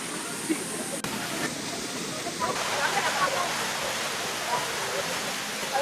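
Monsoon water rushes steadily along a rocky trail on a trek up Korigad Fort in Maharashtra, a broad continuous hiss close by that fills the whole stretch, with people talking over it.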